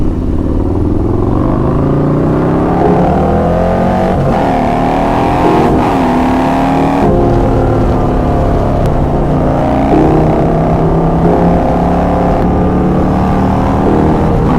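A Harley-Davidson motorcycle engine runs loudly and continuously close by, its low rumble shifting pitch slightly as it revs up and down.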